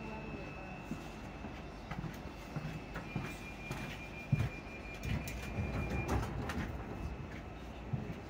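A passenger train runs between Edinburgh Park and Uphall, heard from inside the carriage as a steady low rumble with light clicks and rattles, plus a faint onboard tone.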